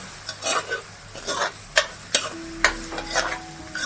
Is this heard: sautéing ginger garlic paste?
yes